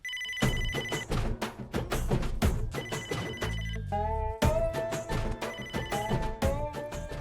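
A landline telephone rings repeatedly in a comedy drama film scene, loud electronic ring bursts in a regular pattern with short gaps, joined midway by a low thud and a rising tonal musical sting.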